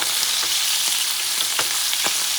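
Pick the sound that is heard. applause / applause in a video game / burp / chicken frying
chicken frying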